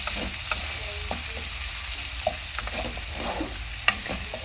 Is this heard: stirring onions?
yes